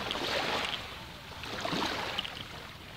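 Strong sea waves wash in at sunset, a steady broadband rush of surf that swells twice, close and moderately loud, with no voices.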